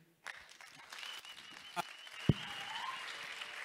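Applause rises from a wedding crowd, a dense patter of clapping that starts abruptly and continues at moderate volume with a few louder claps.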